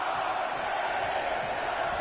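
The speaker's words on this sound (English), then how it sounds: "The sound of this crowd is deafening" A wrestling arena crowd roars, a dense continuous wall of cheering and shouting that stays loud and steady across the short stretch.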